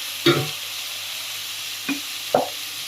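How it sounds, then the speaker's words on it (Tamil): Tomatoes with rock salt are sautéed in a pan for a watermelon gravy, a low steady sizzle broken by three brief scraping stirs, close and without talk. "கல்லுப்பு சேர்த்துட்டு நல்லா வதக்கி விட்டுருங்க"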